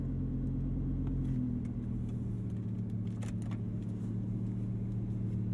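An Audi R8 V10 Plus, modified to over 850 hp, idles low and steady in reverse while backing out of a parking spot, with a deep continuous engine drone that shifts pitch slightly early on and has faint clicks above it.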